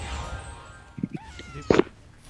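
A house cat meows near a headset microphone during an online game session, a couple of short meows followed by a louder one, close to the mic, with faint background sounds.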